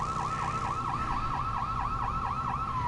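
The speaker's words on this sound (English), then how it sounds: "It's the police sirens." A police siren wails from an emergency vehicle in the video game Lego City Undercover, a rapid, continuous rising-and-falling yelp cycling several times a second, loud and steady with engine hum beneath and no talk.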